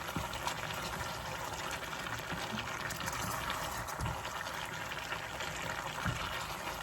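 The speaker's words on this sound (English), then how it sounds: "Gonna add some little water." Water pours into a cooking pot with peppers, making a soft steady trickle and gush with small splashes. It is faint and close, and nobody speaks.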